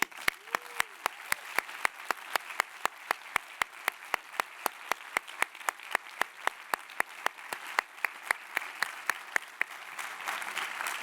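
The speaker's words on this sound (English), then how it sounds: "So let's give them all a hand." A small conference audience claps for the board members, with sparse, distinct individual claps in a steady, fairly quiet patter and a low murmur of voices toward the end.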